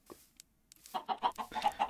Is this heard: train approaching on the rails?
no